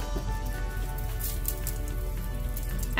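Curry leaves sizzling in about a tablespoon of hot oil in a pan on a stove, a steady close crackle and spatter like light rain, with no talk.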